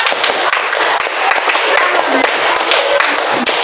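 Many hands clap together in a dense, steady rhythm, loud and close, with sharp accents recurring every half second or so.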